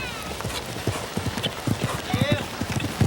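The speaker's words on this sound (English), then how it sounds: "They're not pushing these horses too hard." Hooves clip-clop in quick bursts as two horses run side by side in a race at Spruce Meadows, the rhythmic thuds close and clear beneath a commentator talking.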